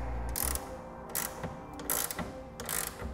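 A ratchet tightens a rail clamp for a BAKFlip G2 hard tonneau cover on a 2016 Chevrolet truck, giving several short bursts of clicking in an uneven rhythm, close and fairly quiet over a low hum, with no speech.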